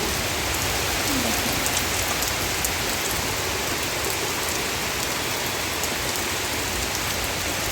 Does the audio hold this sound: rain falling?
yes